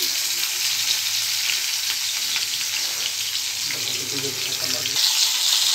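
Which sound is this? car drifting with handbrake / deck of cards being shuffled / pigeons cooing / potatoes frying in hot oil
potatoes frying in hot oil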